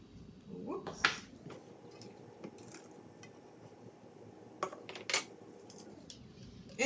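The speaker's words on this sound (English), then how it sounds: "We're just going to mix the wet ingredients with the dry ingredients." Wet and dry ingredients for a vegan apple sage sausage being stirred together in a bowl, giving soft squishing, scraping and a few clinks of utensil against dish, with a voice speaking faintly in the background.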